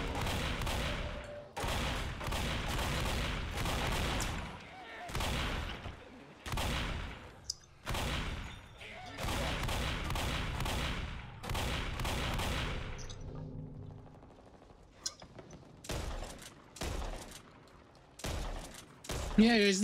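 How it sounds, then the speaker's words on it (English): Gunfire in the video game Back 4 Blood, rounds hitting walls in bursts of rapid shots separated by short pauses, fairly loud and close, with voices talking over parts of it. "They're shooting at walls."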